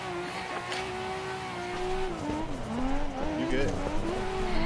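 Tires squeal and skid through a long handbrake drift in the Assetto Corsa racing game, with a steady engine tone wavering under the screech and a voice briefly speaking over it.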